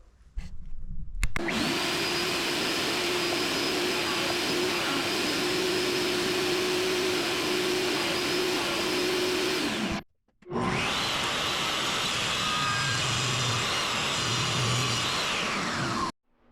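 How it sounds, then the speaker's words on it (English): Jointer and table saw cutting wood in a home workshop, a loud steady machine whine running for about nine seconds, a brief stop, then a second long powered cut, with no talking. "So jointer and table saw."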